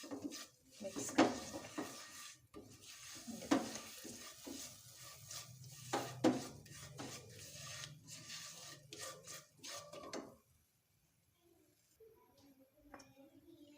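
Spiced potato snack mixture with garam masala and chaat masala stirred in a pan, scraping and rubbing strokes repeating irregularly, close and moderately loud, then fading to quiet near the end.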